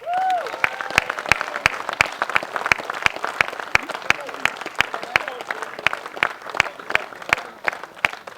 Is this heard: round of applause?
yes